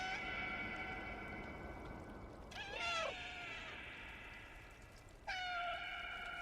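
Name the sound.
cat meowing in a cat video game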